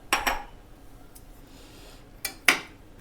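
The metal lid of a pressure cooker holding potato curry is closed, giving a couple of sharp metallic clinks at the start and two more near the end, close by, with quiet between.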